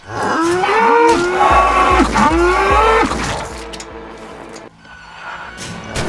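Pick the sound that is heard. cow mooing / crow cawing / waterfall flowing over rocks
cow mooing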